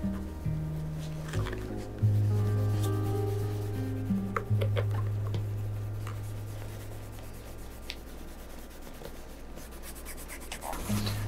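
Wax being rubbed onto shoes with a cloth during a father-and-son shoe-shining session, soft scrubbing strokes repeating close by over a steady low hum.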